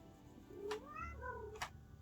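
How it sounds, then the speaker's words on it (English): Domestic cat meowing nearby indoors, one drawn-out rising and falling meow with a couple of short sharp sounds around it, heard alone without talk. "That's my cat."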